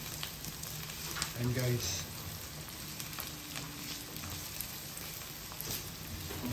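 Onion, garlic and ginger strips frying in a pan give a steady, close sizzle that runs throughout, with a brief clatter of stirring and someone speaking briefly over it.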